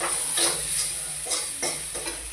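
Potatoes frying in a pan, a continuous bright sizzle with a rhythmic series of stirring swishes about every half second, close and steady, with no talking.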